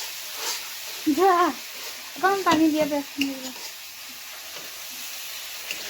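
Fish frying in a pan as a steady, close sizzling hiss, with a person talking briefly over it in short phrases.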